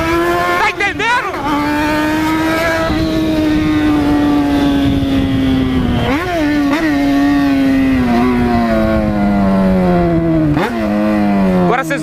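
A loud, close Yamaha XJ6 motorcycle engine with a straight pipe exhaust drones continuously, with a few quick revs breaking its steady pitch, which slowly drops over time.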